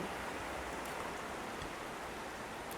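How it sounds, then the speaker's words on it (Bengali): Rain falls outside during the monsoon as a steady, even hiss with no breaks, fairly quiet and with no one talking over it. "বাইরে বৃষ্টি হচ্ছে"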